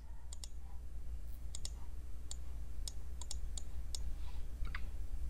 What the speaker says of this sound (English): I'm going to click on new query